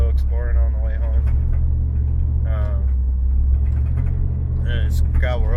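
A vehicle cruises along a smooth gravel road, its steady low engine and tire rumble filling the cabin continuously while a person talks over it.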